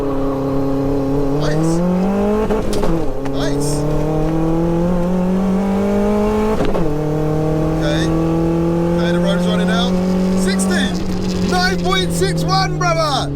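A turbocharged 1-litre Nissan Micra accelerates hard on a timed run, its engine note climbing loud and near through several gear changes, with brief shifts between rising pulls and a short spoken remark near the end.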